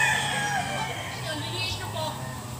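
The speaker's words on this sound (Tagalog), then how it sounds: "Sobrang dami talaga ng manok dito." Chickens at a game farm, including a rooster crowing over steady clucking and farmyard noise, with people talking faintly nearby.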